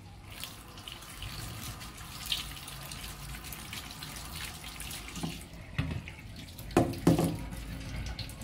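Cold tap water runs steadily from a kitchen faucet over freshly cooked pasta in a sink, a continuous close splash with a few louder bursts near the end as the flow hits the pasta.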